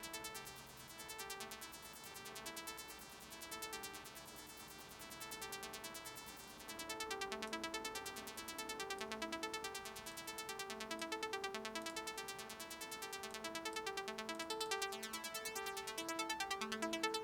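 Sci-fi synth patch run through a band-pass filter with an LFO, giving a steady, buzzy arpeggiated tone whose bright harmonics pulse and sweep in a repeating rhythm, fairly quiet and alone throughout.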